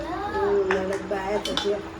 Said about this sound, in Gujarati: આપણે ધોવાઈ રહ્યા છે વાસણ